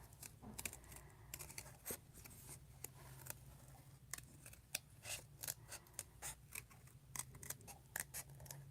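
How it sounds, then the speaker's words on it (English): Scissors snip through paper for a slimline card, giving quick, close, crisp cuts in irregular clusters with small rustles of paper between them, in a quiet room. "And then we'll start cutting there."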